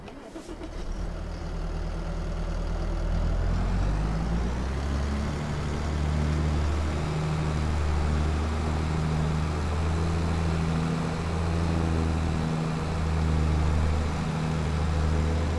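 A tractor drives in Farming Simulator 22, its engine starting up and settling into a steady, loud mid-pitched drone with slight rises and dips as it keeps running.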